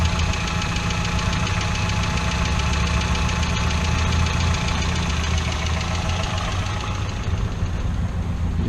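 A Peugeot 206 1.4i 75 hp petrol engine idles steadily, close and loud, with a constant low rumble and a slight knocking vibration throughout, no talking.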